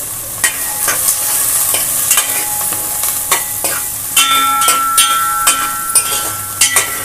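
Soya chunks (meal maker) roast in a pan at home for a coconut rice meal, giving a steady sizzle with repeated scraping stir strokes and occasional light clinks, close and continuous with no talking.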